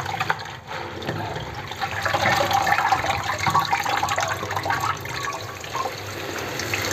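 Running water rinses red amaranth greens in a kitchen, a steady splashing, gurgling flow that swells in the middle and continues throughout, close and moderately loud, with no speech.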